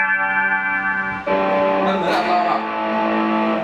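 A Marshall Code25 guitar amp rings with sustained guitar notes, then switches partway through to a distortion effect, giving a thicker, grittier tone at steady loudness, with someone speaking over it.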